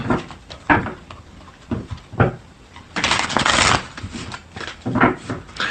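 Tarot cards being shuffled by hand, a run of soft riffling bursts and papery flutters at close range, with one longer riffle in the middle and no talking.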